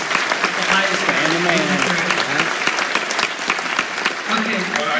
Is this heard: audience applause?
yes